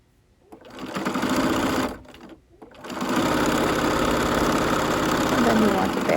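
Sewing machine stitching fabric ties for a face mask, a steady loud mechanical whir that starts, pauses briefly for about a second, then runs continuously again to the end.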